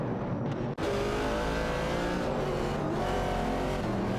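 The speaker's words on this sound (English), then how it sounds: "Duff Dad in the Ford Falcon is in a tight battle with VD39 in the Ford Mustang Boss for the 18th position." A Ford Falcon and a Ford Mustang Boss race side by side in a video game, engines revving loud and close with shifting tones, one brief cut early on.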